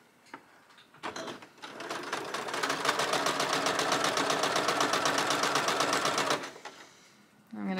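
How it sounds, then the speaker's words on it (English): Sewing machine stitching quilt block pieces in one continuous run of about five seconds, a close, loud, rapid mechanical whir, with brief handling noises before and after. "I'm over at my machine and I'm going to put it in. I'm going to line it up with my needle so that I'm sewing right on the line."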